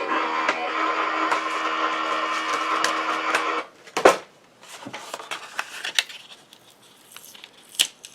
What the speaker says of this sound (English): I will die cut this, which is going to put scored lines in to create